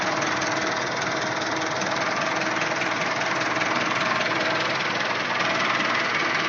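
A tractor engine idles at low speed, a steady rumbling drone with a faint knocking rhythm, close and constant throughout.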